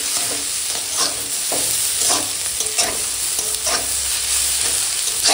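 Potato, beetroot and salted bitter gourd stir-frying in a pan, giving a loud, constant close-up sizzle with frequent scraping stirs throughout and no voices.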